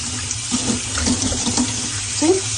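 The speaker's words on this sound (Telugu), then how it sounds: "వాటర్లో నేను ఇలాగా శుభ్రంగా కడిగేస్తున్నాను అన్నమాట" Money plant cuttings rinsed under a running tap, with a steady stream of water splashing into a sink throughout, broken by small clunks and shifts as the stems are handled.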